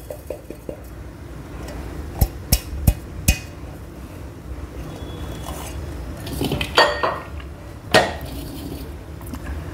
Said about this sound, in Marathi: हे मिक्सरमध्ये वाटून घेतलेले ओट्सची पावडर आपण एका भांड्यात काढून घेऊया